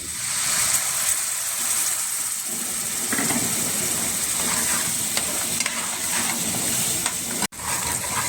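Paneer gravy masala with ground tomato and curd and garam masala sizzles and bubbles in a pan, a steady frying hiss with occasional stirring scrapes and a brief dropout near the end; nobody speaks.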